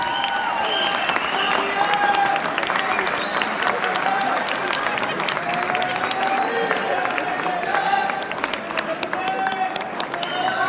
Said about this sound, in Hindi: आपकी तालियां रुकनी नहीं चाहिए, आपकी तालियां रुकनी नहीं चाहिए प्लीज